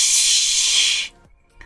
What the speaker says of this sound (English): Can we get some nerd spray?